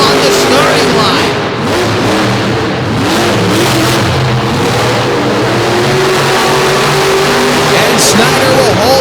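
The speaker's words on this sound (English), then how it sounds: "Here it is, the Monster Truck final, and Snider gets away quick." Monster trucks roar off the starting line in a final at the DuQuoin fairgrounds, loud sustained engine revving filling the whole stretch while an announcer talks over it.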